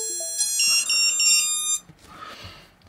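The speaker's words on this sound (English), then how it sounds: "So my quad is beeping away, so it's all sounding good." A rapid series of high electronic beeps and rising tones from a quadcopter drone starting up on Betaflight 4.2 plays loudly for nearly two seconds, then stops, leaving faint background rustle.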